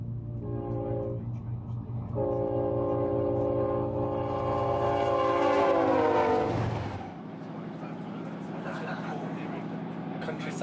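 A passenger train travelling through countryside on a cold day, its steady rumble and rail noise running under people's talk, with a sustained tonal horn-like hum that fades after about seven seconds.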